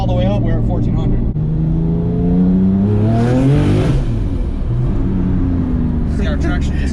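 Tuned 1000-horsepower Porsche 997 911 accelerating hard with wheelspin, engine revving and climbing in pitch loudly from inside the car, with people talking over the noise at points.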